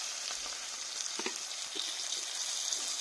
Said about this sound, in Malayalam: ഇനി സുർക്ക നമുക്ക് ഒഴിക്കാം.